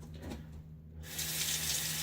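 Tap water runs steadily into a bathroom sink for rinsing after a wet shave with a Gillette Nacet blade, a broad hiss that grows fuller after a brief quieter start, close and continuous with no talk.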